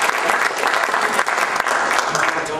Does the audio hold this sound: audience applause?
yes